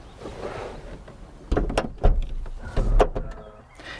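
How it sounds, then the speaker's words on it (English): A Microlino microcar door swinging shut with its soft-close mechanism, heard up close as a few muted thumps and a brief mechanical whir that latches softly, with no talking. "Now, no need to slam the door though. There is a soft close mechanism."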